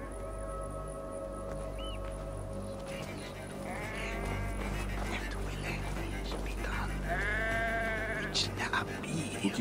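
Sheep bleating in Assassin's Creed Valhalla, with a short wavering bleat near the middle and a longer, louder cry toward the end over a steady background of game ambience.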